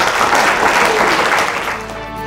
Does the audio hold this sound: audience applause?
yes